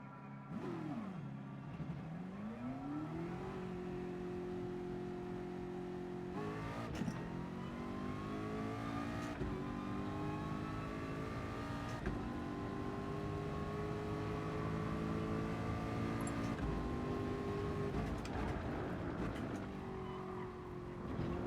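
A Ford race car in Gran Turismo Sport revs and pulls through gears, its engine note climbing steadily with shifts over a continuous, loud drone that runs throughout, with no talk over it.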